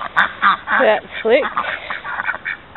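A duck used in dog training quacks several times in quick, uneven bursts, close and fairly loud, while a person talks over it.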